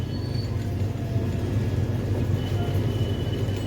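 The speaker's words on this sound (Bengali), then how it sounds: "ট্রেন ছেড়ে দিয়েছে নৈহাটি জংশন" A passenger train rolls on just after leaving Naihati junction, a steady low rumble and rattle of the moving carriages heard from inside, continuous and moderately loud with no talk.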